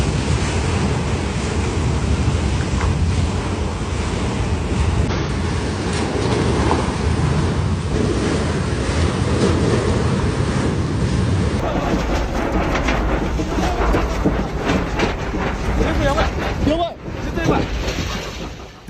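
Pool water sloshing hard in waves during California's 7.1 earthquake, a loud, continuous churning surge that runs unbroken throughout, shifting into choppier splashing near the end.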